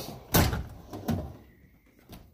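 Metal tool chest drawer in a garage sliding open, heard as two close, sharp bursts a short gap apart, followed by a faint thud, with quiet air between them and no voices.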